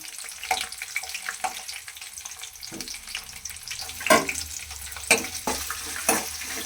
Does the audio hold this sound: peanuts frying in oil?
yes